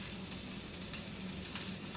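Diced ham and onions sizzle in a skillet for an Italian breakfast, a soft, even frying hiss that stays constant and fairly quiet throughout.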